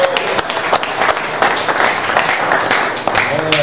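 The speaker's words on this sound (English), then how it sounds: "Give the Lord the biggest clap of him" Church congregation on its feet clapping in praise at the close of a sermon, loud continuous applause from a large crowd with some voices mixed in.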